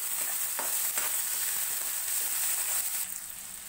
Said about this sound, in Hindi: यहाँ पर प्याज को गोल्डन ब्राउन होते तक भून लेंगे